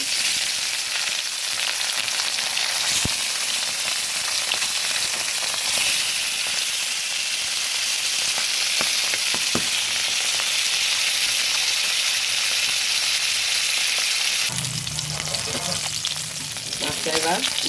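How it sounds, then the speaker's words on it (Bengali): Pieces of rohu fish dropped one by one into hot oil in a wok, giving a loud, dense, continuous sizzle with occasional spatters and a brief clatter near the end. "কড়াইয়ের তেলটা গরম হয়ে গেছে, এক এক করে মাছগুলো দিয়ে দিচ্ছি।"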